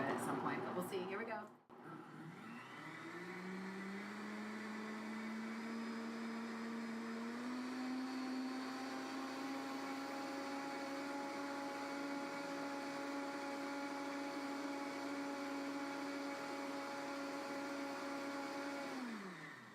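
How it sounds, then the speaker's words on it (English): An electric blender whips chaga tea with coconut oil: a close motor whine climbs in pitch, holds steady for many seconds, then winds down, with a brief voice and handling at the start. "Maybe we're going to cut the volume of the blender out at some point"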